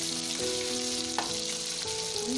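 Chopped shallots sizzle steadily in hot oil, a continuous close crackling hiss with a faint tonal hum underneath.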